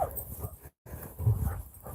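A dog met on a walk to a lake whimpers and whines in a few brief, fairly faint bursts, with no talk over it.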